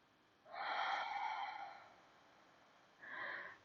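Slow yoga breathing, with one long, fairly loud exhale through the nose followed after a pause by a shorter breath, close and alone in a quiet room.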